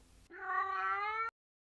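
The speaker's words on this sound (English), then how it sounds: "There was a small kitten meowing high up in a tree when he arrived." A small kitten meows once, a loud, drawn-out, high-pitched cry heard close up and alone, ending abruptly.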